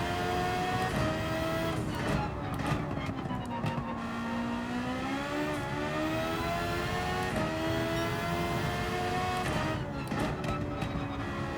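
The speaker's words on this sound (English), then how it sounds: "This thing's engine is probably going to stand out among the crowd." A Ferrari race car engine in a racing video game at Trial Mountain Circuit, heard as a loud, continuous drone that rises and falls in pitch through shifts and revs, with no talking.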